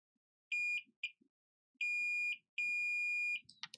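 A multimeter gives continuity-test beeps while probing an iPhone 6 Plus logic board, with three clean electronic tones at close range, one short and two long, alone in a quiet room.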